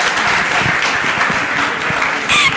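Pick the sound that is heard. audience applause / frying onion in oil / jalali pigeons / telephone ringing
audience applause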